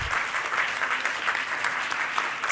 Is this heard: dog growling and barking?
no